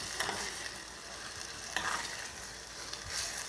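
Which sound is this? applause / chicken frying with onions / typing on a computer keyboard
chicken frying with onions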